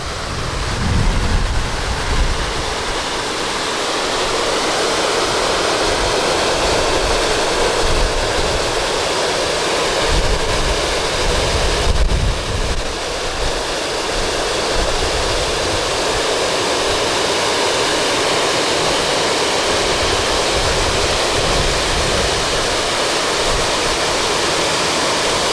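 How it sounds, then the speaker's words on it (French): A water wall fountain at the Montreal Olympic Stadium pours continuously, a loud, dense rushing roar like a strong river, steady and unbroken with no talk. "Je vais vous laisser profiter de la sonorité de ce mur d'eau,"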